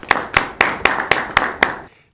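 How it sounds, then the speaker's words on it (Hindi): Seven sharp, evenly spaced claps ring out in a steady rhythm, close and fairly loud, then stop abruptly with a short fade. "आपकी भरपूर तालियों में जनाब एजाज़ गिल साहब"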